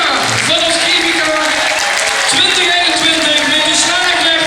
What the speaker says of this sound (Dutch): Applaus voor Richie Max